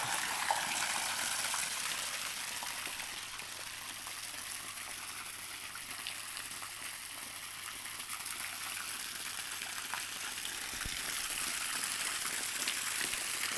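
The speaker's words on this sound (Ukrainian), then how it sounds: "Вода поступово набирається і форель себе дуже добре почуває." A continuous gush of running water filling a trout pool, steady and moderately loud, with no voices.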